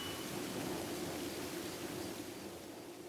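Steady rain falls in the Tsukihime video game, a dense, even hiss of drops with a low rumbling undertone that holds constant and fills the scene without any voices.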